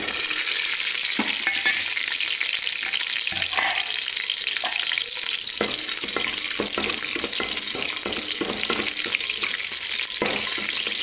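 Mustard seeds, cumin seeds and green chillies sizzle loudly in hot oil for a tempering, a steady crackling hiss with occasional stirring clatter and no talking.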